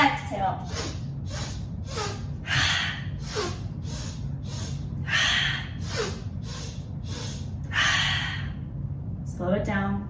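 Breath of Joy yoga breathing: a rhythmic series of sharp, audible inhales taken in stages, each followed by a breathy exhale, repeating over a soft background hum while someone gives spoken cues.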